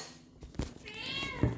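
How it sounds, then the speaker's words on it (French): A domestic cat gives a single clear meow near the end, close and moderately loud, after a short stretch of quiet room sound. "Oh oui, mon chat."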